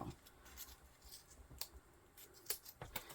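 Scissors snip through zipper tape while making a leather backpack, a series of quiet, close, irregular crisp cuts with soft handling sounds in between and no speech.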